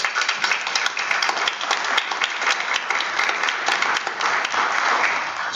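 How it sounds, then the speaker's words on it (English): A room at a monthly board of education meeting breaks into dense, sustained applause for a recognized cohort, many hands clapping evenly and continuously with no talk over it. "I'd like to give a round of applause and recognize that group."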